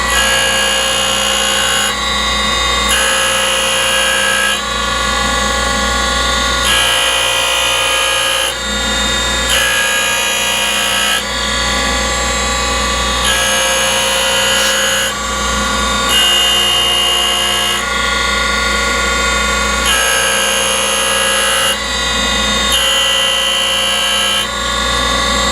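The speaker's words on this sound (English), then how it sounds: "I love this hydraulic bead. It saves on the left arm." The hydraulic table of a Boyar Schultz Challenger Deluxe 2A surface grinder runs steadily, with a loud, continuous whining machine drone that swells and dips in a regular rhythm as the table travels back and forth.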